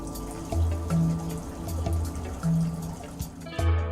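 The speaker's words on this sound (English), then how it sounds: "Correctly measure the required quantity of cleaning agent and pour it into the clean water tank." Cleaning agent being poured into the clean water tank of a Scrubmaster B175R floor scrubber, with soft liquid trickling and filling in short bursts over a low steady machine hum.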